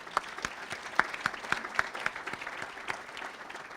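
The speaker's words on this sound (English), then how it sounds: "I want to give him a round of applause." Audience applause after a call to honor a team leader at a community capital board event, light scattered claps over a steady room-wide patter, moderately soft and without talk.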